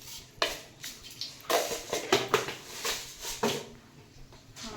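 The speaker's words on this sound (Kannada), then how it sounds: "ಸಾಸಿವೆ ಹಾಕ್ತೀನ" Mustard seeds dropped into hot oil in a pan while cooking coconut and spicy chutney for paddu, giving a run of scattered crackles and small clinks, close and fairly quiet, with no talking.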